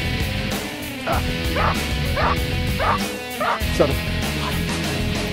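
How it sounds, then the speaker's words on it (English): Several young personal protection dogs in training bark and yip in quick, repeated bursts close by, with a person talking over the noise. "these high-energy pups are being trained as personal protection dogs"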